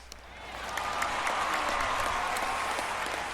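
Stadium crowd cheering in an American football video game, a broad sustained roar with scattered shouts that swells after the opening and holds steady throughout.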